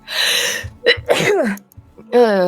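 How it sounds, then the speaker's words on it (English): A single sharp sneeze bursts out between bits of speech, with a person talking before and after it. "Sneezing."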